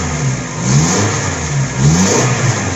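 A Suzuki APV's G16A engine with a repaired catalytic converter and muffler revs in two close, steady rises over a constant idle hum, without exhaust rattle.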